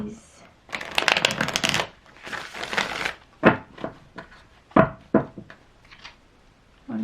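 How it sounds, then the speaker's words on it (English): Tarot cards riffle and slap in several quick bursts of papery shuffling, close and crisp, separated by short pauses, with softer card taps and handling noises between them. "One more shuffle."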